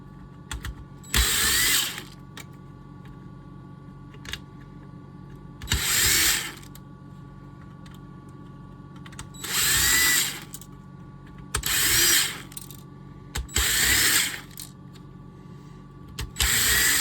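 A power drill removes screws from a Nissan Rogue touchscreen in five short close bursts of whirring motor spaced a few seconds apart, with quiet pauses between each run.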